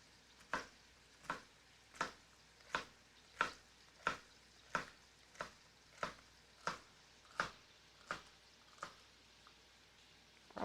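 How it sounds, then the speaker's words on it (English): A knife chops food on a cutting board in a home kitchen while chicken and dumplings are being made, giving about sixteen evenly spaced, crisp close knocks in a steady rhythm with no talking. "We got some of these chopping."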